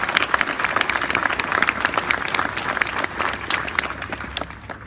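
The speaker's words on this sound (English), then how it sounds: "Please give them a round of applause." An audience at a keynote address gives a full round of applause, a thick continuous crackle of many hands clapping at fairly loud volume that holds steady throughout and eases only slightly at the close.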